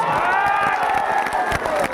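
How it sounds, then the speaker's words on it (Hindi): A crowd at an AIMIM political rally in Kochadhaman claps and cheers steadily throughout, with a speaker's voice carrying loudly over the noise. "इजहार अस्फी साहब और उनके दोनों बेटों के लिए पहले जोरदार तालियां बजाइएगा।"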